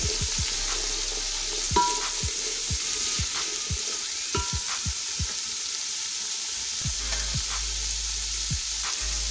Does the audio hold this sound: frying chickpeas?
yes